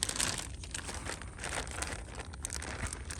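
Plastic fish bag crinkles and rustles steadily while being handled outdoors at a pond, close to the mic with continuous crackling texture and no talk.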